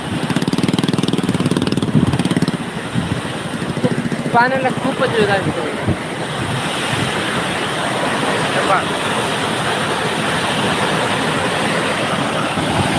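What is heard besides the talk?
vehicle engine putt-putting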